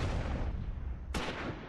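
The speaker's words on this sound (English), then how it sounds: "MGs finally have line of sight. Let's open up." Machine gun fire in the Close Combat IV war game, a dense, rumbling barrage with a sharp new burst cutting in near the end.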